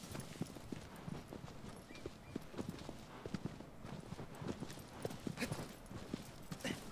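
A horse's hooves clip-clop at a steady, brisk trotting rhythm in the video game Shadow of the Colossus, quiet and continuous with no talk over them.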